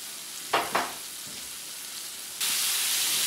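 Chicken pieces frying in oil in a pan give a soft steady sizzle, broken early by two quick sharp spatters, then jump into a louder, denser crackle of hot oil partway through.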